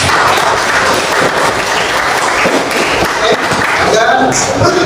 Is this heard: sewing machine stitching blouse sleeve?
no